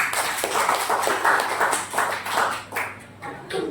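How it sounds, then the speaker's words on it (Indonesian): A classroom group claps hands together in several uneven bursts, close and fairly loud, with short pauses between rounds. "Tepuk tangan buat kita semua"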